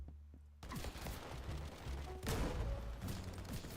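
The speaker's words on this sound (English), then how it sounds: "I love it when people on my team just empty an entire magazine into nothing" A teammate empties a full magazine in a video game, a rapid, sustained stream of gunfire that starts abruptly after a brief quiet moment and rattles on steadily, fairly close and loud.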